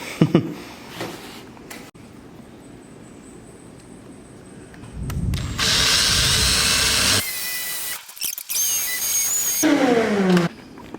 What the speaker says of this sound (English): I'm about to drill into the board.